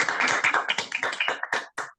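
A small group of students claps in a classroom after a physics demonstration with a circuit, quick scattered handclaps that thin out and trail off into a few last isolated claps.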